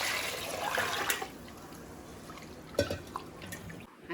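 Water poured into washed rice in a pot for Tamil ven pongal, a steady splashing pour near and loud at first, then softer trickling with a few drips and clinks toward the end.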